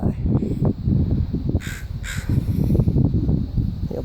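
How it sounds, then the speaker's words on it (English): A crow caws twice in quick succession while dive-bombing, heard over steady, loud wind or traffic rumble. "Little baby crow bird."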